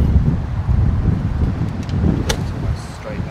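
Wind buffets a microphone on an open golf course at Tenterfield Golf Club, a steady low rumbling gust with a brief sharp knock partway through.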